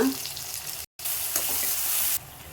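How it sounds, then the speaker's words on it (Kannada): Garlic, curry leaves, dried red chillies, tomato and turmeric fry in hot oil for a rasam, a steady close sizzle with stirring, broken by one brief silent gap. "ನೋಡಿ ಚೆನ್ನಾಗಿ ಫ್ರೈ ಆಗಿದೆ"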